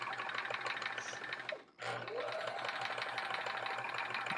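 A sewing machine used for quilt block embroidery runs with a steady mechanical whir and rattle, pausing briefly partway through before starting again, fairly close and with no talk over it.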